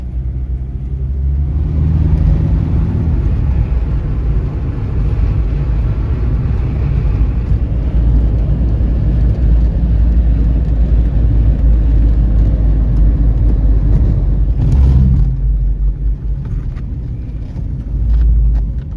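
A Sunbeam Alpine car drives along a Dartmoor road, its engine giving a loud, steady, close rumble that holds throughout and eases briefly near the end, with no talking.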